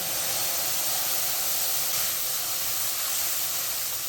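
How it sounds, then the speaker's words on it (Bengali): Water poured into a hot frying pan just used for frying bhola fish, in a home Bengali kitchen, gives a loud, steady, broad hiss of steam that holds close and constant throughout, with no talking. "এই কড়াইতে আমি কিছুটা জল দিয়ে দিলাম"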